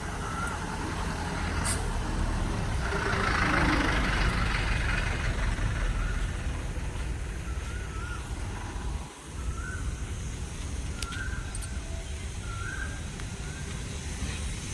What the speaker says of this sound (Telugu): నర్సులు వాళ్ళు రావడానికి ఇది బస్సు అండి.